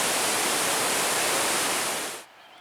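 A large waterfall seen from a trail with stairs, its steady broadband roar filling the scene up close and loud for about two seconds before cutting off abruptly into near silence.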